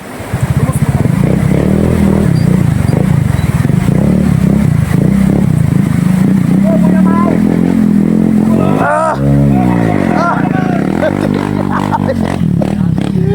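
Honda Beat 110 and Honda ADV 160 motorcycles racing, engines droning loud and close throughout, with a pass or rev surge near the nine-second mark; people talk and shout over the engine noise.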